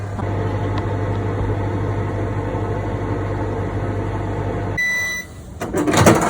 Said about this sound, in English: Let's put in the microwave for about 20 to 30 seconds.